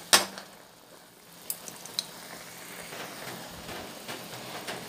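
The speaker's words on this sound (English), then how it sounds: "Just continue with the boiling until the sauce thickens." Soft, steady bubbling and light sizzle from a pan of reducing Coke-based chicken sauce, with a few sharp clinks of a utensil against the pot near the start.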